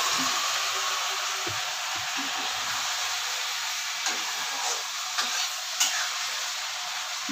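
Steamed vegetables added to hot oil with fried spices, turmeric and salt, sizzling with a continuous loud hiss and occasional stirring scrapes and clinks, with no talk.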